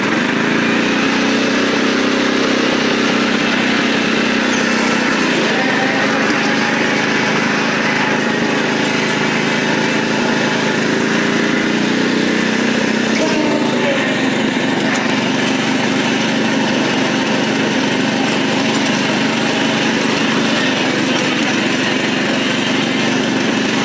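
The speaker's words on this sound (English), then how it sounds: "So this mower, it's a Craftsman." A Craftsman lawn mower engine runs steadily up close, a continuous even drone with no gaps and no voices over it.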